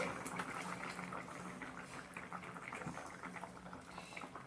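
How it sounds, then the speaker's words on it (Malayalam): Fish curry simmering in a pan with coconut oil poured in, producing a continuous soft bubbling and liquid burble at low volume, steady throughout with no clear voices. "ഇതിലേക്ക് നമ്മൾ കുറച്ച് വെളിച്ചെണ്ണ ഒഴിച്ചു കൊടുക്കാം"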